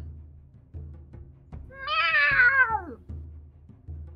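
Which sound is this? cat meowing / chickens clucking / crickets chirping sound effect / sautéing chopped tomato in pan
cat meowing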